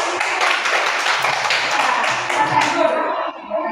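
A classroom full of students claps hands together, a dense burst of overlapping claps that tapers off near the end, with some voices mixed in.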